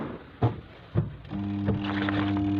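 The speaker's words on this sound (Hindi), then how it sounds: "ये चलता नहीं है और इसमें नॉइस आ रही है।" A washing machine spin motor that fails to turn clunks twice with dull thumps, then settles into a steady, close electrical hum as power is applied.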